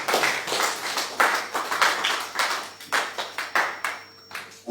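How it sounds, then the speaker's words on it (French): A church congregation claps and acclaims together, a dense, steady run of hand claps with rhythmic swells, fairly close and filling the room, with no distinct voices standing out. "nous acclamons"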